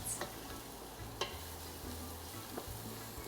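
Garlic frying in a pan, a faint soft sizzle with light stirring scrapes and a few small clicks of the utensil, quiet and close.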